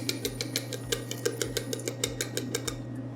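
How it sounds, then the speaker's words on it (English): A whisk taps steadily against a bowl, mixing egg yolks with cornstarch in fast, regular clicks, close and fairly quiet over a low steady hum. "I'm gonna prepare the second part, which is yolks and cornstarch, just to mix them together"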